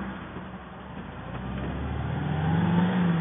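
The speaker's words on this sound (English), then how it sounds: "see if you can hear me over the wind noise" An MGB GT driving along country lanes with its windows and sunroof open, wind buffeting steadily over a low engine drone that swells slightly toward the end, no voice present.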